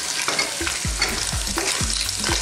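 Clams and shrimp stirred in a hot pan for seafood spaghetti: steady frying sizzle with repeated scraping strokes of the utensil every half second or so, close and clear, no voices.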